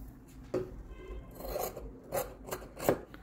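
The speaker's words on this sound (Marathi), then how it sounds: "हा 5 इंचाचा तुकडा मी आता इथे कापून घेते." Scissors cut through a 5-inch piece of cotton fabric scrap for a deer quilt, giving a few soft, close snips and rasping rubs at irregular intervals over quiet room tone.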